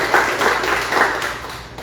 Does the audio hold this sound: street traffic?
no